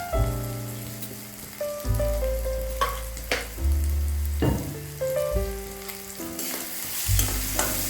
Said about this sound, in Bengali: সবজিগুলো একটু ভাজতে হবে, ভাজা ভাজা।